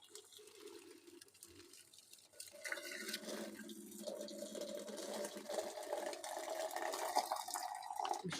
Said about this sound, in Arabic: فاضل ان انا احط الميه المغليه عليها، وادي الميه المغليه.